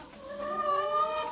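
Chickens in a winter coop with fresh straw give a sustained, warbling cluck-like call. It sounds close and steady and fills the whole brief moment.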